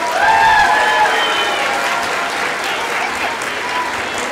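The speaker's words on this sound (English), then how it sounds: "Give these second graders a round of applause" Loud applause from a school audience for second graders after their Christmas performance of Treena the Singing Christmas Tree, a dense steady wash of clapping with a few brief tonal whistles or cheers early on.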